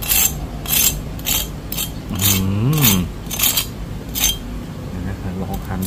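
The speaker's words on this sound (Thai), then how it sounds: "นี่นะครับหมูกรอบของเราฟังเสียงนะ" Air-fried crispy pork crackling being handled and cut, giving a run of sharp, crackly crunches at a steady rhythm, fairly close and loud, with a voice speaking briefly partway through.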